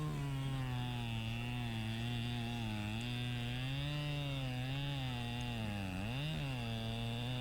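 Chainsaw cutting through poplar wood, the engine loud and close with a steady high whine that dips briefly under load near the end, running continuously with no talk.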